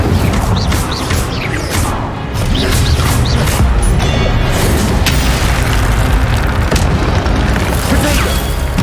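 Incendio fire spells are cast repeatedly in the video game Hogwarts Legacy, loud whooshing bursts and booming impacts layered over dense combat noise throughout.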